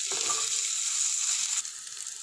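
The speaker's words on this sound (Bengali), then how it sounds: "আদাটার কাঁচা গন্ধটা যেন চলে যায় অল্প ফ্রাই করে নেব।" Green chillies and grated ginger frying in hot oil, a steady close sizzle with a few soft crackles, holding at one level for about two seconds without a break.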